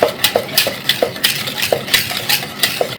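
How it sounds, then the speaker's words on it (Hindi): A hand whisk beats cookie batter with egg and butter in a bowl, striking the sides in quick, regular clinks and scrapes, close and clear with no voices. "आप हैंड विस्क की मदद से तमाम इंग्रेडिएंट्स को अच्छा करके मिक्स कर सकते हैं।"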